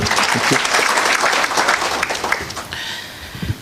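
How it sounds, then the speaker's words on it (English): A round of applause at a national border management conference welcoming Gabriel Tongoyo, a full crowd clapping loudly at first and then thinning out and fading toward the end. "A round of applause to welcome him."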